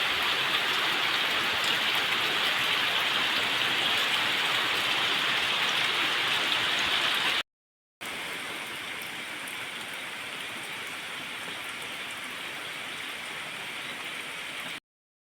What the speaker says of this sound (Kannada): ಹೀಗೆ ಮಳೆ ಬರ್ತಾ ಉಂಟು.